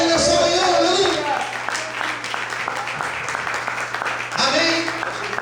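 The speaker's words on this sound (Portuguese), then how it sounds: "Será que você pode aplaudir e glorificar Ele nessa manhã?" A church congregation claps and cheers during a sermon, a dense wash of applause with voices calling out over it, dipping in the middle and rising again near the end.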